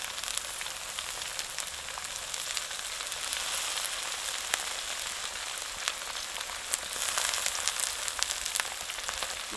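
Onions sizzle and fry steadily in a hot pan, a continuous crackling hiss close by with small pops throughout and no talking.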